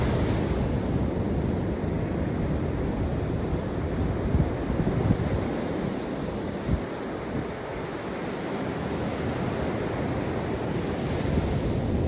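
Steady ocean surf washing onto a beach, a continuous broadband roar with gentle swells and some wind noise, no voices.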